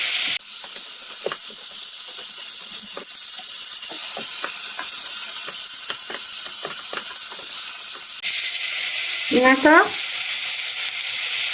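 Veal and aromatics for blanquette de veau sizzle steadily as they brown in a pan, a loud continuous frying hiss with light stirring clicks, a brief spoken word near the end.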